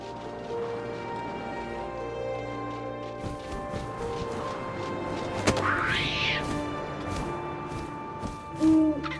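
Owl hooting in the video game What Remains of Edith Finch, a rising call heard once over a steady ambient game soundscape of hums and low tones, with a short thump near the end.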